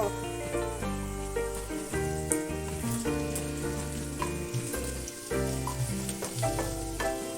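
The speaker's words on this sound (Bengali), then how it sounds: "কিছুটা আদা কুচি দিয়ে দিচ্ছি, একসাথে ভেজে নেব" Steady crackling sizzle of garlic and ginger frying in hot oil, continuous and close, with a tonal drone and faint background music running underneath.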